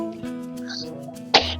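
A single short, sharp sneeze bursts out beside the cage of a rescued street rabbit, standing out clearly over a steady tonal hum in the background.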